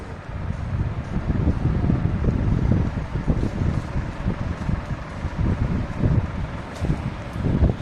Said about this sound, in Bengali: ফ্যানটা খুব জোরে করে এই যে চালু করলাম